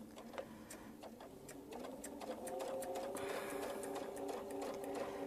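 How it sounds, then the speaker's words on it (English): Sewing machine stitching a quilt for a mini Baptist fan, a steady rapid mechanical whir with ticking needle strokes, running alone and growing slightly louder partway through. "now we're going to stitch down the line again"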